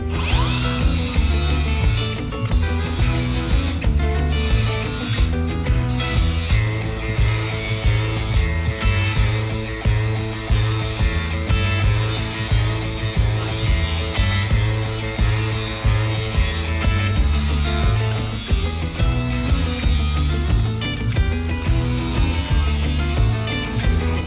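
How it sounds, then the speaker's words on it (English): A flap disc on an angle grinder works the surface of a handmade steel sun visor, a loud continuous grinding and whirring that runs unbroken with a few brief dips in pitch. "I can just take my flap discs"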